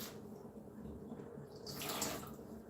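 Water running and gurgling through a brewing coffee maker, a faint steady trickle that swells into a brief louder hiss and splash near the end, with no talk.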